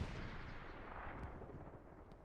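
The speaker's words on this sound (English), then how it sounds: "There goes the grenade." A grenade explodes in a multiplayer shooter scrim match, a heavy booming blast followed by continuous rumbling gunfire and battle noise, with no talk over it.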